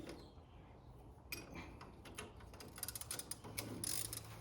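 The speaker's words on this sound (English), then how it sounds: "So I'm just taking out the nuts and bolts for the ball joint." A ratchet loosens the 11 mm nuts and bolts of a ball joint during a front suspension teardown on a second-generation F-body car, giving faint, quick clicking bursts that grow denser and slightly louder toward the end.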